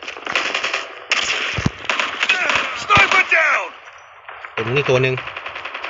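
Rapid automatic gunfire and single shots from Call of Duty Mobile, loud and close, in bursts with short gaps, mixed with game effects and someone talking over it.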